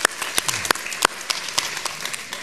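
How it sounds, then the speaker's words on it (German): An audience at a German-language talk applauds, a scattered burst of hand claps of varying loudness continuing throughout, with no speech over it. "Dafür übrigens Applaus und herzlichen Dank."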